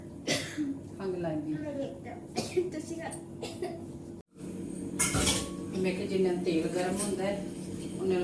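Dishes, pots and cutlery being scrubbed and washed by hand at home, with repeated clinks and metallic clatters interrupted by a brief pause, while a person talks nearby.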